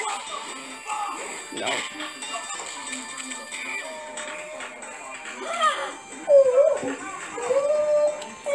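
A hurt puppy whimpers in thin, high, wavering cries that rise toward the end, mixed with background voices and household noise; the whines are moderately close and intermittent.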